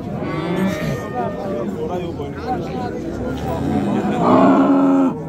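Several cows moo loudly, one low call rising near the end, amid a babble of people talking at the crowded Marhamat livestock market.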